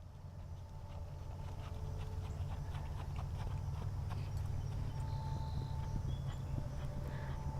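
Horse cantering in an arena during a riding lesson, soft rhythmic hoofbeats with a faint snorting breath, steady and moderately distant, with no talk over it.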